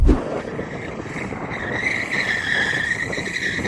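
A BMW M2 with stability control off in rear-wheel drive spins its tyres to warm them, a sustained high screeching squeal over a rumbling engine, strongest in the latter half, with a sharp thump at the start.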